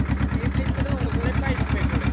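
A tractor engine runs with a steady, fast low-pitched throb, an even idling rhythm close by that lasts the whole short stretch.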